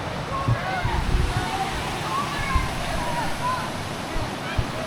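Ocqueoc Falls, a waterfall in Michigan's lower Peninsula, roars steadily and loudly, a constant rushing wash of falling water with faint sloshing and no break throughout.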